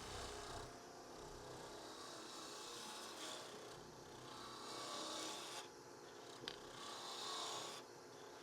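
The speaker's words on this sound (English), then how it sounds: "Back hollowing still works with Purpleheart" A tool cuts into a small Purpleheart wood lidded box spinning on a lathe while it is back-hollowed, giving a continuous, faint, rasping scrape that swells and eases slightly and carries no talking.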